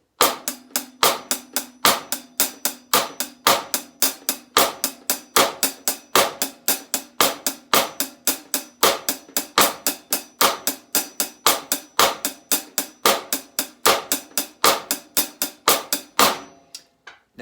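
Crisp hi-hat strokes playing a clave rhythm in a steady repeating pattern for about sixteen seconds, with no other instruments and no voice.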